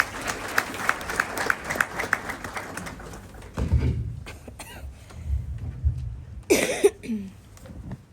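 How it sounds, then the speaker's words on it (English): Audience at a medical school ceremony applauds the Kenya Medical Association president, with a brief stretch of mixed clapping that fades into scattered claps, coughs and room murmur, ending with a short louder burst. "Please give him a round of applause."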